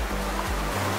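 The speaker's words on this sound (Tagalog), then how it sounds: "Ayan yung tubig galing sa falls." Water from Imugan Falls rushes steadily on a forest trek, a dense continuous roar with no voices.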